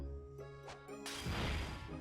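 Glass smashing in The Great Ace Attorney Chronicles, a wine glass shattering: a loud crash bursts out at about one second and spreads into a long bright scatter of debris over a low music bed.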